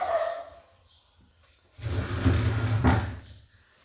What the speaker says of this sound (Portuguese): o au-au do cachorro vai atrapalhar